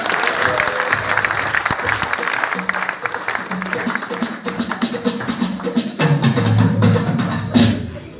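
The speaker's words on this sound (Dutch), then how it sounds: "Groot applaus voor Glennie" Audience applause at a tattoo event, a dense crowd clapping loudly and steadily throughout with some voices and cheers mixed in, swelling near the end.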